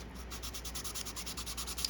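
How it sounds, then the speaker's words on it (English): Wood rubbed with 320 grit sandpaper in steady back-and-forth strokes, a close, even rhythmic scratching with soft pulses under a low constant hum. "The 320 seems to do a pretty good job of really sanding it down"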